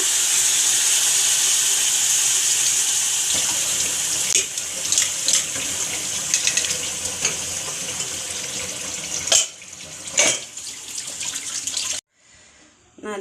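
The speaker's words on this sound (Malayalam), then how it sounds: "വെള്ളം നമ്മൾ ഒഴിച്ചു കൊടുക്കുന്നുണ്ട്" Water pouring into a pan of bitter gourd theeyal curry, a loud steady rushing hiss that goes on for several seconds and then breaks into splashes and clinks before stopping abruptly.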